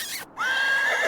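A single drawn-out horse whinny in the video game Irony Curtain: From Matryoshka with Love, close and clear, rising then holding steady for nearly a second after a brief snort-like sound.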